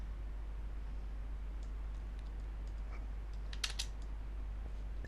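Quick light keystrokes on a computer keyboard while drafting a floorplan in AutoCAD, a few soft clicks clustered near the middle over a steady low hum.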